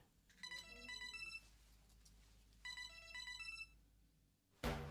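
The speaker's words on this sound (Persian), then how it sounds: "ها، از تلفن تو زنگ است." Telephone ringtone playing two separate bursts of rapid electronic beeping tones, each about a second long with a pause between, fairly faint against a quiet room.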